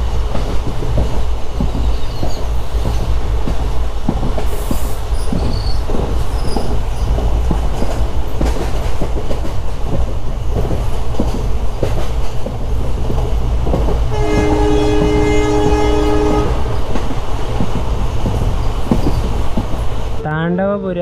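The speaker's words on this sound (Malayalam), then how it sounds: "ഇവിടെ ലെവൽ ക്രോസിങ്ങിൻ്റെ നടുക്കാണ് നമ്മൾ ട്രെയിൻ വന്ന് നിർത്തിയത്." A passenger train on the Mysuru to Chamarajanagar line rumbles along loudly, wheels clattering steadily, with a long horn blast partway through.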